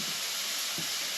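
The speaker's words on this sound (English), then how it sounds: "once the bacon's nice and crispy, tasty, we'll get the onions in" Crispy bacon and onions fry together in a pan with a steady, close broadband sizzle and hiss, broken by a soft low knock partway through.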